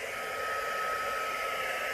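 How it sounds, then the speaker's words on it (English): A heat gun with a hairdryer nozzle fitted blows a steady, even hiss of air across resin for a beach-pour coaster, a constant close whoosh with no break or change. "You know that heat gun I've got? I put my hairdryer nozzle on the top of it."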